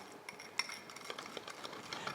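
A cold chemical reaction mixture in a lab vessel is stirred, giving faint, rapid scraping and light clinking taps in a quick irregular rhythm.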